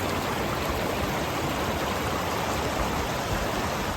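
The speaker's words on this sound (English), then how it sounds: "Beautiful waterfall." A waterfall on Skye's Trotternish Peninsula in Scotland roars steadily as a dense, continuous rush of falling water, loud and unbroken from start to finish.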